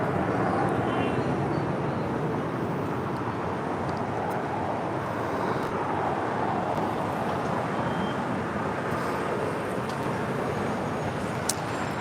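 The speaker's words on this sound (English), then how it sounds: "This is Qatar Cargo 8172 taking off to Liège on a 777 freighter." Qatar Cargo Boeing 777 freighter taking off at LAX, a broad steady jet roar held at constant loudness for the whole stretch, heard from a distance amid airport background noise.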